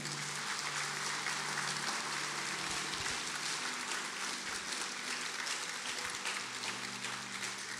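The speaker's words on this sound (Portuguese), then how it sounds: "Dá para aplaudir ao Senhor por essa palavra aqui?" Church congregation applauding after a reading about the promise of God: a continuous, even wash of many hands clapping at a fairly quiet level, with no talk over it.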